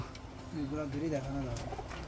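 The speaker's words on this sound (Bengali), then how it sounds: "উপরেও বেশ কিছু কবুতর আছে" Pigeons cooing at a pigeon farm, a soft rolling coo rising and falling near the middle, fairly close, with faint background noise and a voice nearby.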